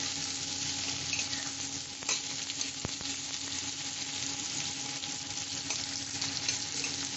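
Finely chopped ingredient sizzles steadily in hot oil in a pan for chicken curry, close and even throughout, with a couple of faint clicks from stirring.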